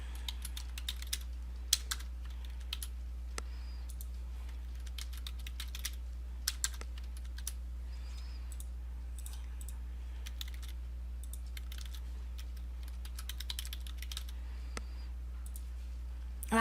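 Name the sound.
typing on a computer keyboard, entering username and password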